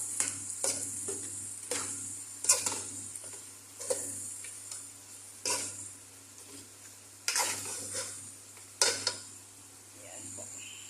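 A utensil stirs shrimp, rice, spinach and coriander in a frying pan, giving soft scraping strokes at irregular intervals over a faint, steady sizzle. The sound is quiet and close, and no one speaks.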